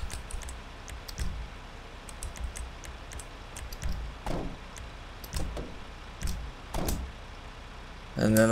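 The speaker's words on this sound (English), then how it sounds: "Okay, let's close all the doors." Ambulance doors in GTA V roleplay slam shut in a series of sharp, separate knocks spaced a second or so apart, fairly close and moderately loud, with a brief louder burst at the very end.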